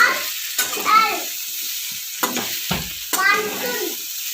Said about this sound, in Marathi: या वड्या सतत हलवत राहायचे कमीत कमी दोन मिनटामध्ये मस्त असे फ्राय होते परतल्या जातात